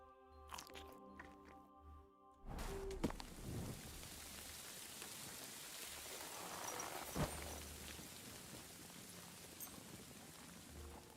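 Steady hiss of rainfall in the medieval video game Kingdom Come Deliverance 2, a dense even wash that starts abruptly after a brief stretch of game sounds and continues at moderate level with occasional faint taps.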